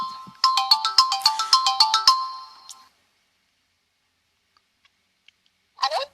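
Telephone ringtone on an Egyptian Arabic radio call-in show, a rapid series of bright electronic rings over about two seconds, then silence and a short sound near the end.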